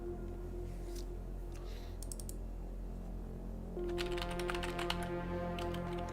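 Computer keyboard typing in short bursts of rapid clicks separated by pauses, close but quiet over a steady low background hum.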